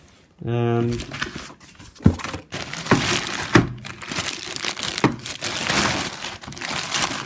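An old plastic bag from a vintage Grandstand Astro Wars game crinkles and rustles as it is handled close up, with sharp crackles scattered throughout and a brief tonal squeak at the start.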